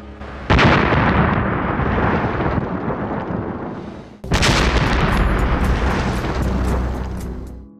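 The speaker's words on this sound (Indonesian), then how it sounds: "Sebuah ledakan hebat mengguncang kota itu." Powerful explosion tearing through a city, two heavy booming blasts a few seconds apart, each hitting loud and close and trailing off in a long rumbling roar.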